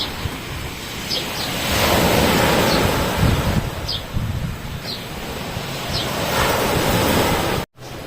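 Sea waves wash steadily onto a shore beside a highway, a loud continuous surf roar mixed with gusting wind noise on the microphone, with no break across the whole stretch.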